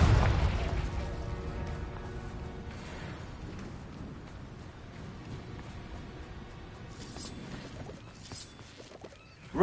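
The Confringo blasting spell in Hogwarts Legacy on PS5 goes off with a heavy boom, fading into crackling debris and scattered pops, then a fresh burst erupts right at the end.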